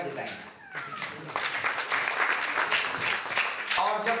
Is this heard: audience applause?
yes